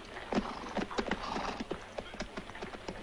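Horses' hooves clip-clop in a steady, uneven rhythm on hard ground, fairly close and loud, with a brief whinny-like sound mixed in and no speech.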